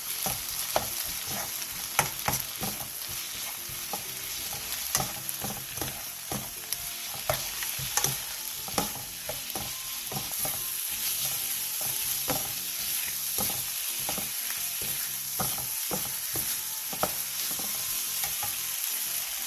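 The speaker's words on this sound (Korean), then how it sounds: "고추장 1/3스푼, 고춧가루 1스푼, 설탕 1/3스푼, 매실액 2/3스푼, 진간장 1티스푼을 넣고 중약불에서 3분 정도 볶아주세요" Gochujang, chili powder, sugar, plum syrup and soy sauce stir-frying in a pan over medium-low heat, a steady close sizzle with frequent scraping strokes of a spatula throughout, no talking.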